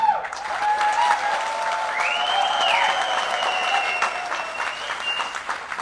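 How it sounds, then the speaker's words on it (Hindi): A live crowd at a kavi sammelan with Kumar Vishwas and Rahat Indori claps in a dense, sustained burst of applause, with shrill whistles rising and sliding above it. "ये जिस भी लड़के ने मुझे देखकर ताली बजाई, सीटी बजाई है"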